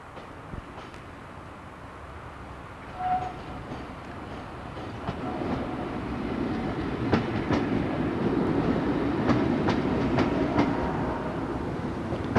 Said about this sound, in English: the route learning vehicle, converted from a former EPB unit,